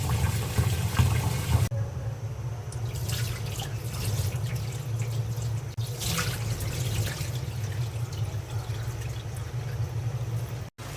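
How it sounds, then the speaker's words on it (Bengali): Polao rice being rinsed under a running tap, a steady splashing water flow with some drips and rattles, close and fairly loud throughout, with no talking. "আমি পোলাওয়ের চালটা ধুয়ে নিচ্ছি।"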